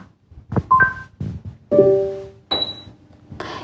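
Several short electronic beeps and tones sound in sequence from a Rotenso Roni wall-mounted air conditioner powering on, each clear and close, separated by brief pauses and soft thuds.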